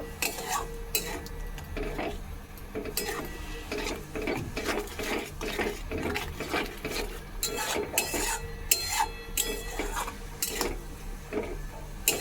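A spoon stirs mung dal with a fish head in a metal pot, giving steady close scraping and clinking with a soft bubbling beneath and no talking.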